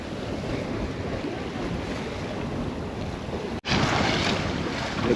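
Steady roar of strong wind, around 22 knots, across the microphone with waves rushing against the hull of a Jouet 10.40 sailboat under way, constant and loud with a brief dropout near the end.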